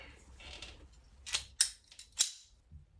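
A blade cutting through a clamped homemade skateboard coper, giving a few sharp, close snapping cuts in quick succession over a brief moment, with a soft hiss of handling before them.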